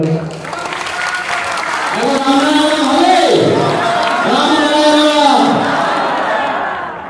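Audience applause in the hall at a Vedic music programme at Rabindra Bhavan, Chandannagar: loud, dense, sustained clapping with crowd noise, swelling and continuing for several seconds.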